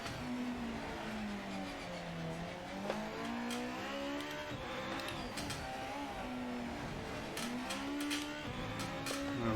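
A race car engine in the Project Motor Racing video game drones loudly and continuously, its pitch rising and falling with gear changes and throttle through corners.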